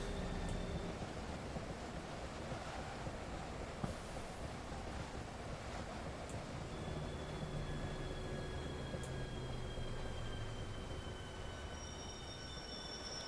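A passenger train in Train Simulator 2021 brakes to a stop on a Farringdon to Birmingham run: a continuous rolling rumble with thin, sustained wheel squeals drifting in pitch as it slows.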